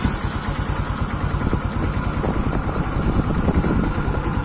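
Yamaha Aerox scooter engine running at idle after a fuel pump regulator repair, a steady close mechanical putter with a dense low throb held throughout and no talking.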